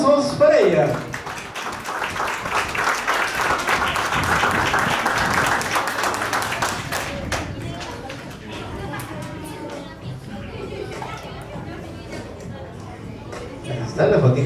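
Applause at a school graduation ceremony, a crowd clapping steadily for several seconds amid chatter, then tapering off as voices carry on over lighter scattered claps.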